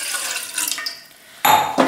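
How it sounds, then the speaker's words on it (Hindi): Water splashes from a tap into a metal pan set on a gas stove, in two loud bursts of pouring separated by a brief quiet pause, close up and with no talk. "इसमें पानी डालेंगे"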